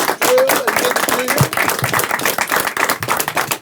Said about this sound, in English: let's have a big round of applause for Emeapp, Drew, and